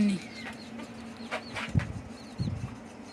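Chickens and young chicks on a small farm give a few soft, scattered clucks and a brief flutter, close by but faint, spread over a few seconds.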